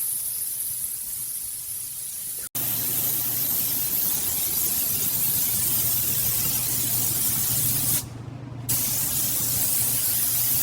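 Spray gun laying wet coats of voodoo blue metallic paint on a Toyota FJ Cruiser, a steady close hiss broken by a sharp click near the start and a brief pause later, with no voices.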